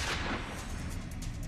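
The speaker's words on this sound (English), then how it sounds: "People heard multiple gunshots" Multiple gunshots in a night-time crime reenactment, a dense burst of loud booming reports filling the short stretch without a break, no talk.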